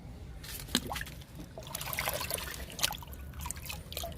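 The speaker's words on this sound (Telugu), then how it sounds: "లిక్విడ్ ఇస్తున్నా." Liquid fertilizer is poured over flowering plants, a soft uneven trickle and splash of water onto leaves and soil, faint and close, with no talk.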